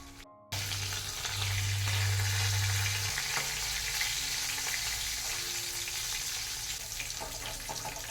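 Fish fries in hot oil in a pan, a loud, steady sizzle and crackle with a low hum underneath, continuing without a break and without talk.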